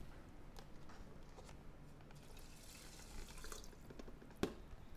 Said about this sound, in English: we're going to be adding in the mushroom soaking liquid